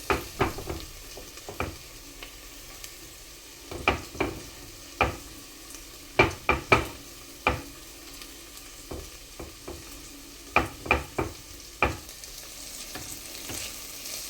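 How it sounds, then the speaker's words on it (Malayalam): Onions and green chilies sautéing in a pan for spinach rice, giving a steady close sizzle broken by repeated sharp scrapes and clacks of a spoon stirring against the pan. "എന്നിട്ട് ഒന്ന് നന്നായിട്ട് വഴറ്റാം."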